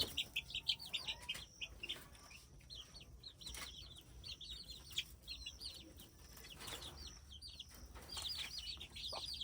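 Several hens cluck and chirp in short repeated bursts throughout, with occasional wing flaps and rustling close by.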